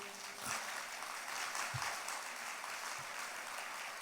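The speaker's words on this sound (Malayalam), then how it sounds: "ഒന്ന് കൈയുയർത്തി കൈയടിച്ച്" A church congregation claps with raised hands during a prayer talk, producing a soft, fairly distant spread of clapping that holds steady and quiet throughout.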